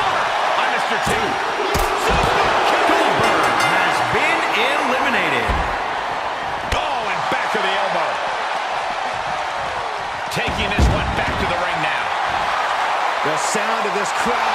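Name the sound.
wrestling crowd roaring loudly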